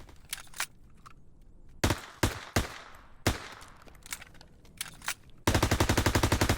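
Gunfire from an MP40 submachine gun in a Call of Duty game: several scattered, sharp single shots with short decays, then a fast, loud burst of automatic fire at the end.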